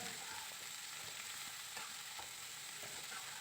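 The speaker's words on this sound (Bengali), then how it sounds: "বাঁধাকপিগুলোকে দিয়ে দিচ্ছি বাঁধাকপিটাকে দিয়ে এবার নেড়েচেড়ে একটু ভেজে নিতে হবে" Drained cabbage stir-fried with spices in a pan gives a soft, even sizzle with a few faint stirring scrapes, steady and fairly quiet, with no voices.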